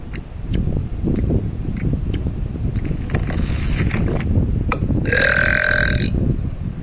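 Talking Tom, the cartoon cat of a mobile game, gives a long rumbling burp over a noisy background, ending with a brief bright squeaky game effect.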